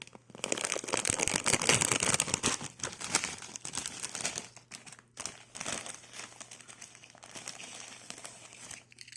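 A bag of Doritos Hot Wave chips is torn open and handled, giving loud, close, continuous plastic crinkling and crackling for about nine seconds with no talking.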